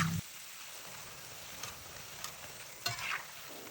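Cimol, small tapioca snack balls, bubble faintly in hot frying oil while being stirred, with a soft steady sizzle and a few brief scraping clicks from the stirring, and no voices.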